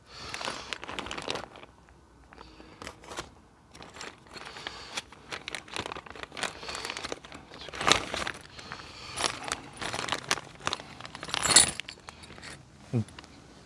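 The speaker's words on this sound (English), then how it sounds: "Now there's another plastic bag." Plastic bag crinkles and rustles in irregular bursts over several seconds during a Honda CB1000R belly pan install, with handling clinks and shuffles; a voice talks intermittently nearby.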